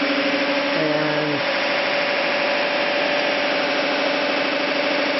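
A pulse motor on a cart runs steadily with a continuous buzzing drone and pulsing hum, briefly shifting pitch early on, without pause.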